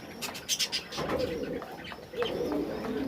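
Fancy pigeons, including Rajshahi Giribaz, coo softly in a loft, with low rolling coos following a few short chirps and a faint wing flutter nearby.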